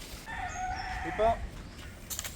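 A rooster crows once, nearby and clear, followed by a few soft clucks, with faint outdoor background noise.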